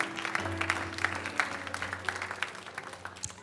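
A church congregation applauds and acclaims the Lord, giving a short burst of clapping with a few voices calling out over sustained tones, heard fairly close and moderately loud.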